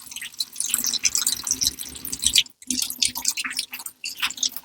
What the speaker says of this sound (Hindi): अभी हम यहाँ से पानी निकाल रहे हैं